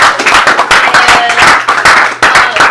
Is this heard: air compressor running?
no